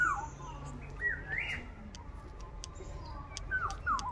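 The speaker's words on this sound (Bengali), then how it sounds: "পাখিরা ডাকছে, বিভিন্ন ধরনের বিভিন্ন রকম পাখি ডাকাডাকি করছে" Several birds call in a home garden, with scattered sharp whistles and chirps at varied distances and a thin, steady outdoor backdrop between calls.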